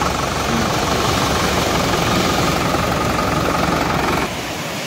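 A tractor engine drags a fishing boat ashore on a sea beach after a night of fishing, giving a loud, steady, rumbling drone that eases off slightly just before the end.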